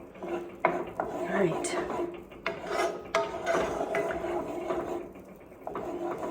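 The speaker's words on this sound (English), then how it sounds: "So it says stir constantly, so I'm going to keep stirring." Butter is stirred constantly in a pan while it browns, a steady rasping scrape of the utensil against the pan with soft sizzle beneath, and a voice speaks briefly.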